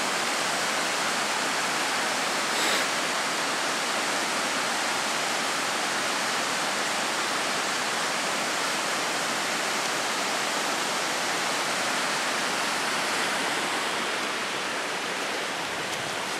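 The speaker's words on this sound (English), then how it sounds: "I think that's the waterfall from Copper Lake, the overflow." A waterfall pouring as the overflow from Copper Lake in the North Cascades, a loud, close, unbroken roar of rushing water with no voices.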